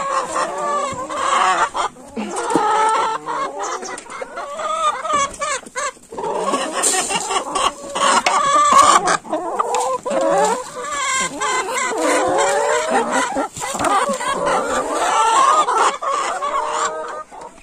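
Chickens and turkeys on a farm cluck and gobble close by, many birds calling continuously and overlapping in a busy, loud chorus.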